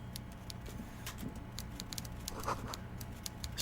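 Quiet, irregular key clicks from someone typing in Disco Elysium play softly against low background hum, with a brighter burst near the end.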